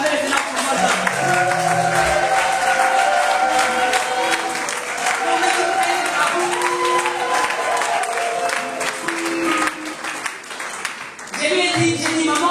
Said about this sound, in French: Est-ce qu'on peut acclamer le Seigneur pour moi?